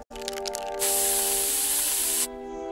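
Pepper spray blasts in South Park: The Stick of Truth, a loud, close, continuous hiss lasting about a second and a half over a background of sustained musical tones, with no talk.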